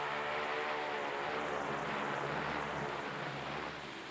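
A crew of five takes off in a US Navy survey plane from Operation Highjump to map the Antarctic coast. The engines give a loud, steady propeller roar that fills the whole clip, with no talking.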